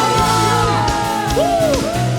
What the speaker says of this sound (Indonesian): Mari sorakan haleluya